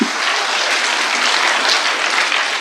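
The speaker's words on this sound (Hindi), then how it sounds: "एक बार मजमूई तौर पे यार तालियां बजनी चाहिए" Audience applause at an Urdu poetry recitation gathering, cheering a performer's romantic verse; a dense, bright burst of many hands clapping, steady and fairly loud for its whole length, with no talking over it.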